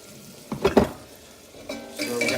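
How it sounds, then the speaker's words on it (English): All-purpose flour going into hot sizzling butter in a stainless steel pan: a couple of sharp hissing flares, a quieter lull, then a rising, steady sizzle, close by, with no talking. "Let me get the flour in there before that butter gets too dark."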